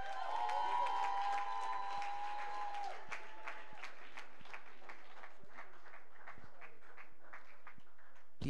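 An indoor audience at a send-off ceremony and alumni network launch claps thinly, a sparse patter of individual hand claps running steadily throughout, under a sustained electronic tone that fades out early on.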